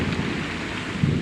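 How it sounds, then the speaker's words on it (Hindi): Heavy monsoon rain pours down in a dense, steady roar, and a low rumble of thunder swells near the end. "और बहुत जोरों की बारिश होने लगी दोस्तों।"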